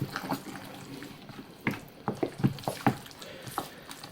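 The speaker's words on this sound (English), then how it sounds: "Bit more passata because I want this quite liquid." Passata poured into a lasagna dish, heard as a faint run of soft wet glugs and plops, close and quiet, with small pauses between the splashes.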